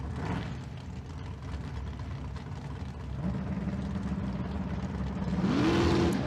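Race engines at a drag strip, a 1969 Firebird from Idaho and a California dragster, build a steady mid-pitched drone that swells as the revs climb near the end, loud and continuous with no talk.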